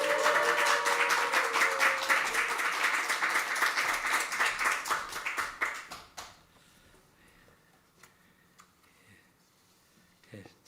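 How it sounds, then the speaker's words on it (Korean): A church congregation claps loudly to welcome the pastor back, a dense crowd of hands over a music bed for about six seconds before the applause stops abruptly, leaving near silence with a few faint taps. "우리 오랜만에 가장 뜨거운 웰컴, 다시 웰컴백 박수로 목사님 환영하겠습니다."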